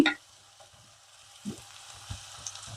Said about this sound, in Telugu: ఆనియన్ వేగే వరకు ఇది ఉంచేద్దాం ఇలాగే ఆనియన్స్ మంచి ఇలా కలుపుతూ ఉండాలండి